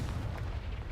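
A Confringo spell blast from Hogwarts Legacy bursts as a dense, loud, low rumbling boom that fills the short moment with no pause.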